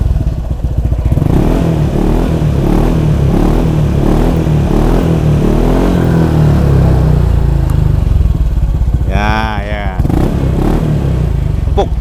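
A Honda ADV 150 scooter fitted with a K-Race racing exhaust idles with a steady, throaty mid-range drone, then revs sharply near the end. The engine is close and loud, with no talk over it.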